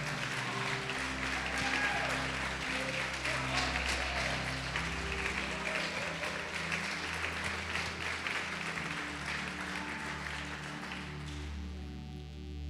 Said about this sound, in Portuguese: Você pode aplaudi-lo e glorificá-lo.